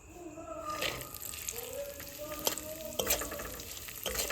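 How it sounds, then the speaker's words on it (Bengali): Cashews and raisins fry in oil in a kadai, giving a close, continuous sizzle broken by sharp scraping and clinks as they are stirred, with some faint tonal background sounds. "এবার কাজু কিশমিশটা ভেজে নেব"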